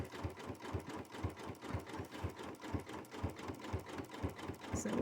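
A sewing machine stitches a jelly roll fabric rug, its fast, even needle thumps running steadily and close by for five seconds, quiet overall and with no talking.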